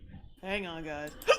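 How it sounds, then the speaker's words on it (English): A person says a few words, then lets out a single sharp, close hiccup. "No, it's hiccups."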